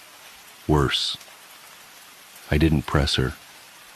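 Steady rain falls as a soft, even wash throughout, faint beneath a voice speaking in two short bursts.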